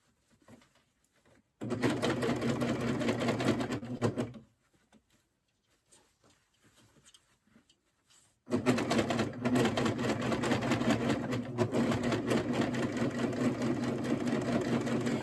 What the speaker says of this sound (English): And sergers like to cut off a little bit of fabric.